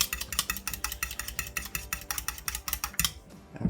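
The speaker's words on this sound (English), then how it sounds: "I'm going to go ahead and get the 1 egg put into the bowl, and I'm going to go ahead and get it whisk up" A whisk beats an egg in a bowl with quick, regular clinking taps against the sides, a fast steady rhythm that stays close and fairly quiet, ending in a few scattered knocks.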